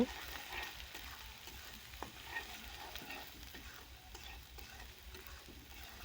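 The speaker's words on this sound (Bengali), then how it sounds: "এখন আমি সবগুলো নেড়ে চেড়ে ভালোভাবে আমি কিছুক্ষণ কষিয়ে নিব।" Egg noodles being stirred and fried with a spice mix, giving a steady close sizzle with scraping stir strokes throughout.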